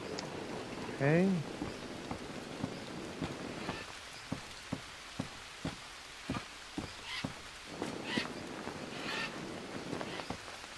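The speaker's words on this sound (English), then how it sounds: "Well, it's raining, so let's put down some more things." Steady rain falls in a virtual-reality survival game, a soft continuous patter under sharp, regular clicks and taps, with a brief voiced whoop early on and occasional hissy bursts.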